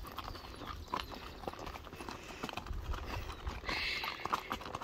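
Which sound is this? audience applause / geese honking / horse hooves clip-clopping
horse hooves clip-clopping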